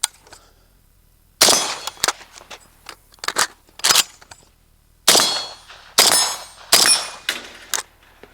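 A suppressed 5.56 RPK rifle fed from Bulgarian magazines fires outdoors in hot weather, giving a series of sharp, close cracks with metallic ring, a few single shots, then a quicker string of bursts.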